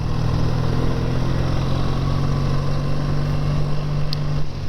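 A BSA 650 A10 motorcycle, about 67 years old, rumbles steadily along a bumpy road. The engine drone is loud, low and continuous, with wind noise and no talking.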